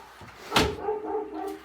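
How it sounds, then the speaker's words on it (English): A wolf dog barks once outside, a single sharp, fairly loud bark, followed by a quieter whining, muffled tail as if heard through walls from indoors. "My wolf dog is going crazy out there."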